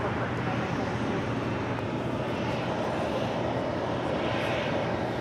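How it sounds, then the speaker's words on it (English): A Philippine Airlines Boeing 777 taxis and turns at LAX, a steady distant roar of jet engines with broad rushing noise, holding an even level throughout. "Philippine 777 making that left-hand turn"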